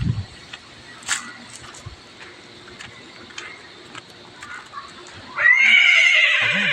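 A horse named Petra at a stable park whinnies, one loud, close neigh near the end after several seconds of faint background clicks and quiet ambience.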